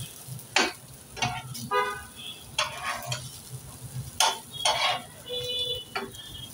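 Pieces fry in a pan and get turned, with bursts of sizzling and scraping against a quiet background, along with a few faint high whistling tones.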